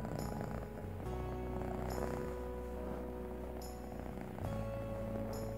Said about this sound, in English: the sound of a deeply contented cat's purr